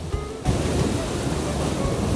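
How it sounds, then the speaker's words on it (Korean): Sea waves surging against a rocky shore near a breakwater on the Taean coast, a loud continuous wash of surf and spray that swells in after a brief lull, roaring steadily with wind buffeting the microphone. "그나저나 이거 파도 왜 이래? 생각보다 심하네요."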